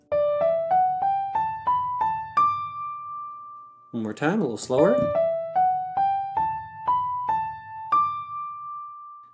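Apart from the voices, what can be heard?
ear-test melody played as a scale from low do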